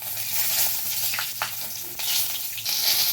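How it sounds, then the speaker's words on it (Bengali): Mixed vegetables with bay leaves and dried chillies fry in hot oil in a kadai, giving a close, steady sizzle broken by a few short stirring scrapes. "একে একে সবজিগুলো ভেজে নেবো"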